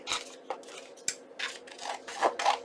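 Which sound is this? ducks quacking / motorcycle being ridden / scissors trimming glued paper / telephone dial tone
scissors trimming glued paper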